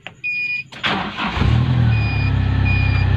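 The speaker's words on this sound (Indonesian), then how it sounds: "kali ini saya akan menunjukkan cara pengoperasian startup engine di kijang kapsul ya" A Toyota Kijang Kapsul is started with a retrofitted push-start button: near the start a short cranking burst and a click are heard, then the engine catches and settles into a loud, steady idle.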